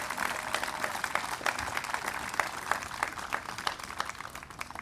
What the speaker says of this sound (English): give one more round of applause to the Guardians of Harmony